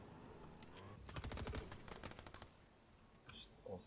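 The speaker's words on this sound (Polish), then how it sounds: "Ostro się strzela." Gunfire in the video game Fortnite: rapid bursts of automatic shots in a quick clattering cluster, then a few scattered later shots, fairly faint in the game mix.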